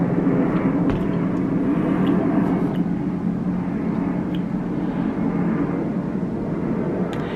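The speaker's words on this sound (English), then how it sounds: "I can't believe there's this many planes tonight." Airplanes passing overhead at night, a steady broad roar that hangs in the air throughout, with no talking and only faint ticks above the drone.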